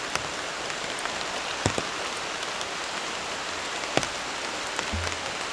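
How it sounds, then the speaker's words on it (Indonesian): Heavy rain pours steadily on a forest campsite at night, a dense continuous hiss with scattered sharper drops and taps on nearby surfaces, close and enveloping with no talking. "Hujannya semakin besar teman-teman."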